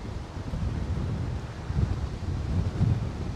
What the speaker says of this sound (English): So it's a little bit blustery.